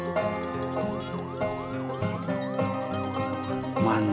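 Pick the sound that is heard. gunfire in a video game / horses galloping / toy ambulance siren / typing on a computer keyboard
toy ambulance siren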